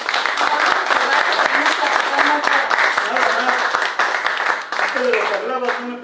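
Audience applause following a talk by a Maderas del Pueblo del Sureste representative, steady dense clapping throughout with some voices mixed in near the end.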